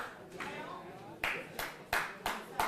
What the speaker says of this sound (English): I thought somebody was clapping.